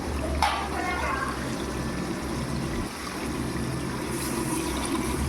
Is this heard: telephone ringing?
no